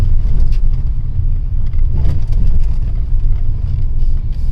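Low, heavy rumble inside the cabin of a 2021 Hyundai Creta driving over a pothole-filled road, with steady road and engine drone and occasional thumps from bumps, fairly loud, without talking.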